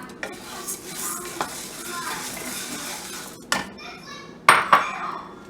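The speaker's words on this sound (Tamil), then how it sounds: "கொள்ளு வந்து பொரியிற சவுண்டு வந்து உங்களுக்கு கேட்கும்" Horse gram dry-roasts in a dry pan alongside urad dal, giving a soft crackle under repeated metallic scraping and stirring, with a couple of louder clanks of utensil against pan near the end.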